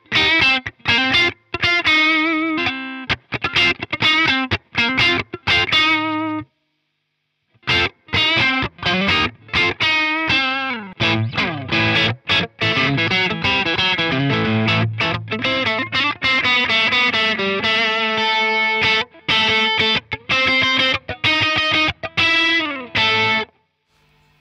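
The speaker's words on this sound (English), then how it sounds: "the guitar still sounds like a Tele, and the Les Paul still sounded like a Les Paul, which is what all good overdrives do" Overdriven Telecaster electric guitar played through a germanium overdrive pedal into a Fender Deluxe Reverb amp, loud and alone, with choppy bursts of chords and single-note lines and a brief pause near the start.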